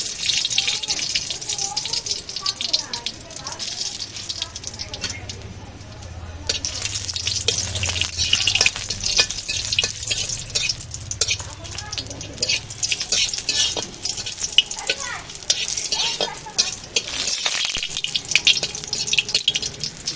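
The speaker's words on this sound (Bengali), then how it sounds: "এই পেঁয়াজ মরিচ আগে ভাইজে নিব, দিয়ে দিব শুকনো মরিচ" Onions and chillies, including dried red chillies, fry in a pan for a Ramadan iftar meal, giving a soft, steady sizzle with stirring and scraping under occasional talk.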